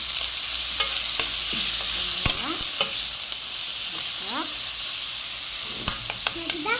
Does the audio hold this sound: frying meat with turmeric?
yes